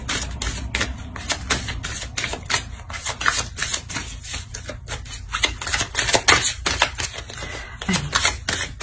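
Tarot cards being shuffled and drawn, producing rapid, crisp flicking and snapping clicks in quick clusters, close and fairly loud.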